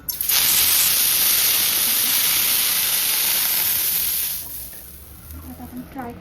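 Oil poured onto a hot plain tawa for dosa bursts into a loud, steady sizzling hiss up close that fades after several seconds, followed by someone speaking.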